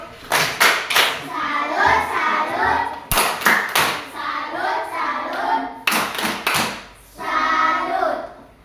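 A group claps a quick patterned rhythm, the 'tepuk salut' routine, in bursts, with sharp slaps and pauses between phrases, loud and close, in a classroom.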